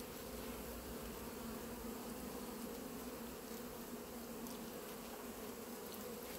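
A honeybee swarm that has moved into uncovered beekeeping equipment makes a dense, continuous buzzing hum, steady and unbroken throughout.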